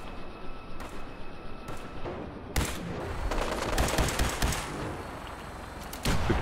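Gunfire in the Fallout 4 video game: quieter scattered shots at first, then a sustained, loud stretch of rapid overlapping shots and blasts continuing to the end.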